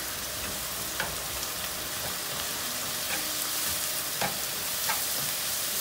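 Ginger garlic paste frying with onion in a pan for egg curry, a constant hissing sizzle with occasional sharp scrapes of a spoon stirring, moderately loud and steady.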